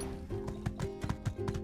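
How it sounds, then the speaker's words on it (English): A ridden horse in the video game My Time at Sandrock clip-clops in a brisk gait, with clear hoof thuds over a sustained musical drone, close and moderately loud. "let's go ahead and ride on this horse."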